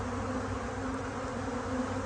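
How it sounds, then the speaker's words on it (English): Honeybees swarming in the air around a freshly lidded new hive, a dense, steady buzzing drone of many insects close by that fills the whole clip without pause. "I'm seeing a mass exodus of bees."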